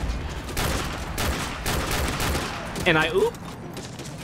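Rapid fully automatic Glock pistol fire in Modern Warfare 2 rattles in dense bursts across most of the span, with a voice speaking briefly over the shooting near the end.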